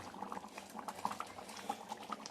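Curry gravy boiling in a pan, a steady close bubbling with soft pops and patters, quiet and continuous with no talk.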